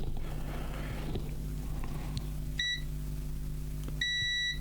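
A high voltage circuit board gives two short electronic beeps, one brief and one slightly longer, both faint and close over a low steady electrical hum.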